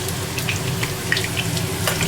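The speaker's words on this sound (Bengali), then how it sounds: "আলুগুলো একটু লাল লাল করে ভেজে নেবো" Potatoes frying in hot oil in a home kitchen, a steady close sizzle and crackle with brief bright pops, no voices.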